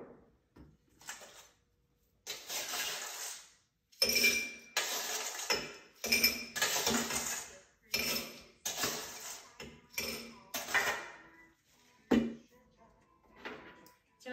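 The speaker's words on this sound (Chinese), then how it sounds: "加入冰" Ice cubes dropped into a highball glass while preparing a mojito, a series of sharp clinks and rattles in bursts, some louder than others, separated by brief pauses.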